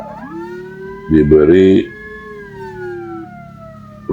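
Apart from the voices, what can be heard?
ambulance siren in traffic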